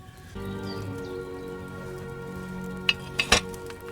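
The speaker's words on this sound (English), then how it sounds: "Hear that bubbling? It's boiling." Potion simmering in a cauldron in Kingdom Come Deliverance 2, a soft steady bubbling boil under a low hum, with a few sharper pops and clinks near the end.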